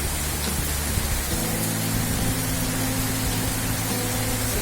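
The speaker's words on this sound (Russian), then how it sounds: "Даже я сказал бы, не дождик, а целая гроза." A sudden heavy rain shower during a seaside thunderstorm pours as a dense, loud, continuous hiss with a low steady hum underneath.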